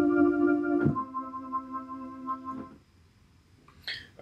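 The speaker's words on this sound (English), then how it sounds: "I'm going to go in here and I'm going to use the 60s vintage organ" A soft, dark 60s vintage organ synth preset holds a sustained chord, then shifts briefly before fading to near silence, with a faint short sound at the end.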